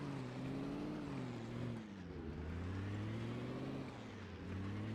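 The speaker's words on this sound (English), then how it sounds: "Car's gonna have a rough time on grass" A droning engine hums steadily, its pitch wavering up and down as it strains and revs driving on grass, with no talking; a car motor in the modded video game Project Zomboid.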